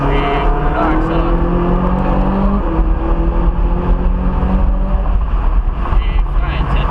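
A Ferrari 458 Italia accelerates on a race track, its loud close engine rising in rising harmonic sweeps through the gears with a brief shift break, while an instructor's voice talks over it.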